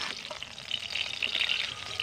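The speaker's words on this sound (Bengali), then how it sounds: "এবার আমি ঢেঁড়সগুলোকে ভেজে নেব, এতে ঢেঁড়সের সবুজ ভাবটা কেটে যাবে।" Okra frying in hot oil in a pan, a steady soft sizzle with faint crackles and bubbling, fairly quiet and close, with no talk over it.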